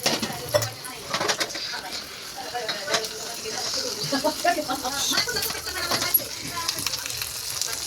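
Spiced tempering of chilli powder, cumin, mustard seeds and garam masala sizzling in a pan as water goes in, crackling and bubbling at moderate level with clatter of utensils, birds chirping and a voice speaking over it.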